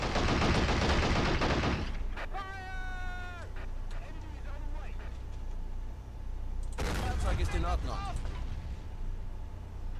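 Gunfire in the Army Men of War war game, a dense burst of shots in the opening seconds, then quieter battle sounds with tonal warbling effects and another rough burst later on.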